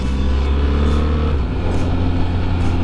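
A BMW R 1300 GS motorcycle accelerating hard, a loud close engine roar that climbs in pitch, shifts once and keeps pulling.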